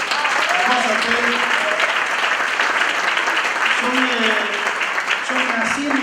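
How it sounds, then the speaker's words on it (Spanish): Loud, dense applause from a conference audience fills the room continuously, with a voice speaking briefly over it. "Un fuerte aplauso a los compañeros del hotel."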